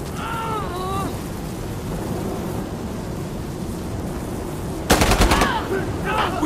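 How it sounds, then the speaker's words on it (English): Bursts of automatic rifle fire from an AK-74U in Insurgency Sandstorm, a loud rapid volley near the end over a continuous battlefield din, with a brief voice early on. "shooting!"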